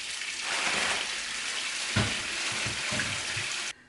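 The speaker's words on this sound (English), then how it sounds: "So I'm going to just put these in the sink, give them a good wash" Tap water runs into a sink as apples are washed under it, a steady splashing stream with a few soft knocks of fruit, ending abruptly.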